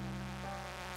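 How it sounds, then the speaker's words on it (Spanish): Flies buzzing in a video game, a steady, close insect drone that continues without a break for the whole moment. "Estas moscas las detesto."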